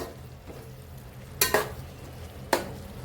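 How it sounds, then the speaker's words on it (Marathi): Cooked prawn gravy with coriander for kolambi biryani is mixed in a pan, with a low sizzle throughout and two or three short, loud stirring scrapes, close by. "छान मिक्स करून घेऊया आपली कोळंबी"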